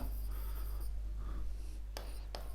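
Chalk or pen scratching across a board during an organic chemistry lesson, a few quick strokes, then two short sharp scrapes near the end over a steady low hum.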